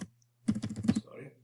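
A short burst of rapid keystrokes on a computer keyboard, about ten quick clicks typing a Java import line, close and quiet, with a faint voice trailing after.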